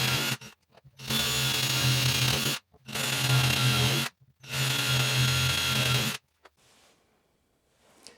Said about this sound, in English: Now that these holes have been drilled and cleaned up and deburred